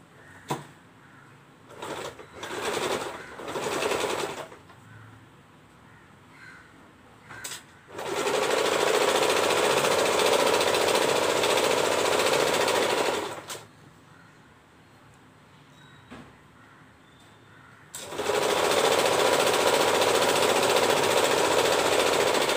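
A sewing machine stitches the side seam of a lehenga with lining attached, running in two long steady bursts of close, loud mechanical whirring after a few short stop-start runs, with quiet pauses between.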